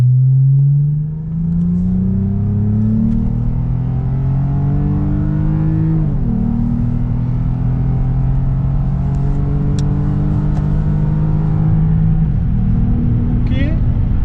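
A Lexus IS250 engine revs and drones steadily with rising and falling pitch through gear changes, a close continuous interior rumble with faint talk at points.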